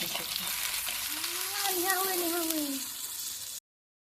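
Oil sizzles steadily in a pan while a bread omelette cooks on low gas, a constant bright crackling hiss up close; a faint voice murmurs briefly underneath before the sound cuts off abruptly.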